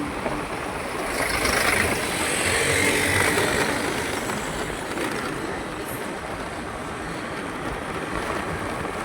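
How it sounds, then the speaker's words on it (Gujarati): A pickup truck passes along a rural road between Wankaner and Afva, a broad engine and tyre rumble swelling and then easing off, heard close with steady wind-like road noise and no talk. "ઓહો, પિકઅપ."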